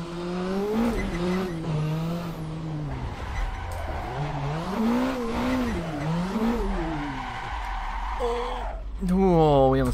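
Racing car engine in a driving simulator game, with harmonic engine tones climbing and falling through gear changes and a brief tire squeal, continuous and loud, while someone talks over it.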